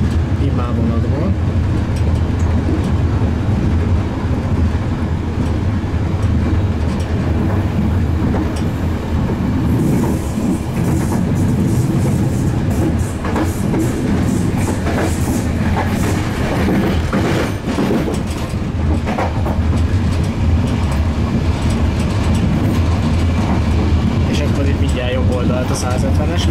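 A train runs on rails with steady loud rumbling and rhythmic clickety-clack from the wheels, heard from inside a carriage, with voices talking over the noise.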